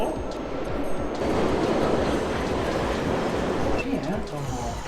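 A London Underground train on the Circle Line rumbles into the station, a steady loud roar with rhythmic wheel clatter and a brief squeal near the end, while people talk over it.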